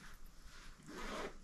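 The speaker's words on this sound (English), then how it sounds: "zipper" A luggage zipper pulled quickly in two short rasping strokes, faint and close with no other sound.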